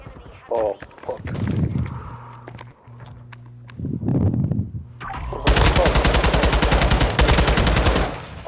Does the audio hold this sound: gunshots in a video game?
yes